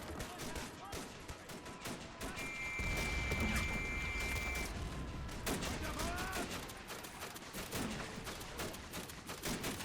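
Dense bursts of machine gun and rifle fire on the Western Front in a WW1 game battle, rapid overlapping cracks and rattling volleys with booming explosions, continuous and loud.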